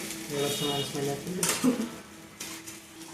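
A spoon stirs egg curry in oil in a pan, scraping and clinking against the metal in quick repeated strokes. A soft sizzle sits underneath, with a few sharper clanks of utensil on pan.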